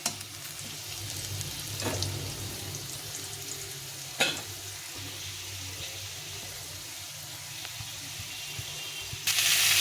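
Pointed gourd (potol) frying in oil, with a faint, steady sizzle under scattered clinks and scrapes of the spatula against the pan, a louder rush at the very end.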